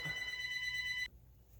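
A telephone rings indoors with a bright electronic trill that holds steady for about a second and then cuts off abruptly, leaving quiet room tone.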